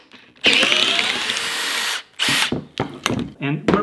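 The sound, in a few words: cordless drill boring into wood to split kindling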